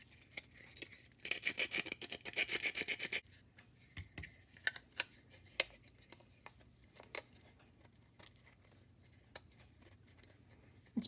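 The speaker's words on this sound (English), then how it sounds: "This is a little skinny chisel." A small, skinny chisel scrapes leftover support material off a 3D-printed RoboTech Valkyrie VF-1D part. A quick burst of rasping strokes is followed by scattered light ticks and taps.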